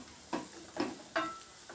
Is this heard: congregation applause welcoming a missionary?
no